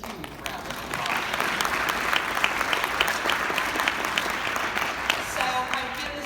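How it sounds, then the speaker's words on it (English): A large crowd claps steadily in sustained applause, dense and continuous for several seconds with no voices standing out. "please give yourselves a huge round of applause"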